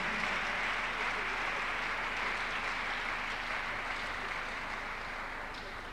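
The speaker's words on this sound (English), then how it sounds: "Clap your hands unto God of the chosen" Congregation at a church miracle service clapping hands in praise, a dense, steady wash of applause filling the whole stretch without letup.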